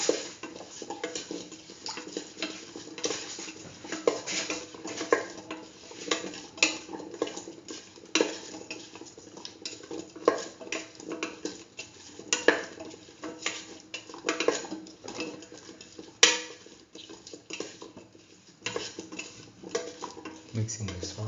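A utensil stirs salt into potato chayote rice, making repeated close clinks and scrapes against the pot in an uneven rhythm over a faint sizzle for about twenty seconds.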